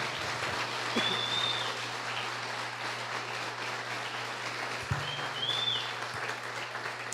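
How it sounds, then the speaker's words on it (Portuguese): Steady, dense applause from a church audience during a Portuguese-language sermon fills the space as a continuous wash of clapping, with faint tonal chirps rising briefly above it. "Você pode aplaudir Jesus por essa bênção?"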